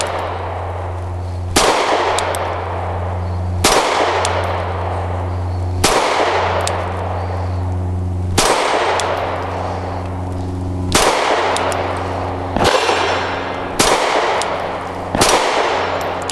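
Canik METE MC9 pistol firing 115-grain rounds, nine sharp loud shots spaced irregularly about one to two seconds apart, each with a brief ringing tail over a steady low hum, no speech between them.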